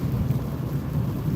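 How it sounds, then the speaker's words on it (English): Rain and thunder on the road: a steady, heavy low rumble with a dense wash of rainfall, continuous and fairly loud throughout. "You love the sound of rain?"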